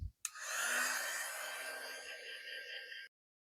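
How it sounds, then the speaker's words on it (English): A heat gun blows steadily over resin flag art, a close whooshing hum starting after a click and running about three seconds before cutting off abruptly. "Let me run the heat gun over this and see what we come up with."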